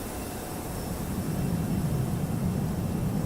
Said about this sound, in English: Transition behind the combustion portion of the engine and just hear all that nice rumble.